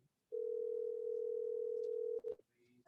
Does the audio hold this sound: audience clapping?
no